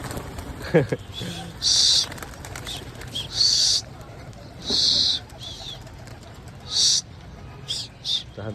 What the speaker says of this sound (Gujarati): કબૂતર ઉડાડ્યા પાછા